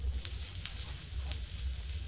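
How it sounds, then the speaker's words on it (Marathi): Mustard seeds crackling in hot oil for tomato rice, a continuous faint sizzle dotted with several sharp little pops spread unevenly across the moment. "मोहरी चांगली तडतडू द्यायची आहे."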